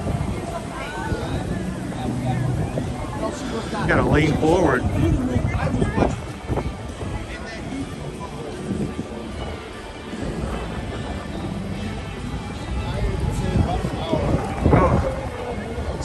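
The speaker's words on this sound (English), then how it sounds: "It is very blustery today." Strong gusts of wind buffet the microphone with loud rumbling bursts at Disney's Hollywood Studios, while people talk and call out over the blustery noise.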